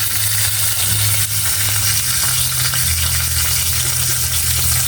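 Dried daing fish frying in a pan, a dense, steady sizzle and crackle of hot oil that runs loud and unbroken, with no voices over it.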